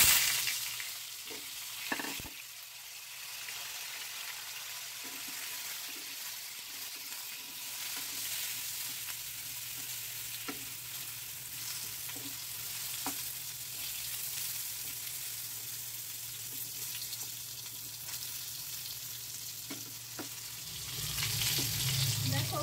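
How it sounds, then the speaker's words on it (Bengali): Pointed gourd pieces fry in hot oil, giving a continuous, fairly soft sizzling hiss with occasional light stirring clicks and no voices. "পটলগুলোকে আমি মিনিট 5 ভেজে নিলাম।"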